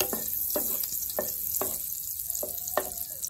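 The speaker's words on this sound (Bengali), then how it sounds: "সাদা তেল গরম হয়ে গেছে, এখানে সাদা তেলের মধ্যে একটু বাটার দিয়ে দেবো" Butter melts in hot white oil in a pan and sizzles with a steady close hiss, while a spatula taps the pan in a loose rhythm.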